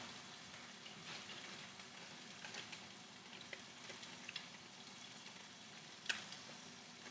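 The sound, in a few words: turmeric blooming in hot oil in a pan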